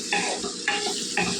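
A spoon stirs tomatoes into an ivy gourd curry frying in a pan, three short scraping strokes at a steady rhythm over a soft background sizzle, heard close with no talk.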